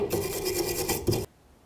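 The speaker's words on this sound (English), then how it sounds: "take our brush, and we want to make sure we clean off any of the debris that might be on this surface right here" A brush scrubs debris off the frame surface of a Chevy C/K1500 pickup during fuel tank replacement, a close, quick rasping rub for about a second before stopping.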